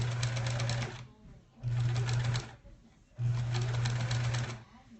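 A sewing machine stitches quilt block pieces in three short bursts, each about a second long with a steady motor hum and rapid needle clatter, separated by brief pauses, close and clear.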